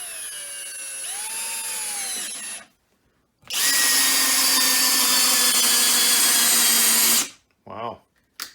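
A Skil 12V brushless cordless drill drives a fastener at speed 1, about 450 RPM: a loud whining motor runs for a couple of seconds, pauses, then runs again for several seconds before short bursts at the end, close up.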